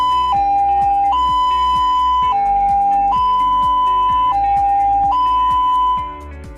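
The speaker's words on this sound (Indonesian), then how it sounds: "Jenis sirene yang pertama adalah sirene yang menyerupai bunyi palang kereta api," An ambulance siren sounding like a railway crossing signal, used while collecting a patient, alternates loudly between two electronic tones in a slow, regular high-low pattern before fading out at the end.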